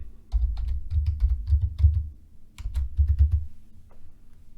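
Quick bursts of computer keyboard typing, close and crisp, in short runs with brief pauses between them, as a Stream Deck profile is renamed on Windows 11.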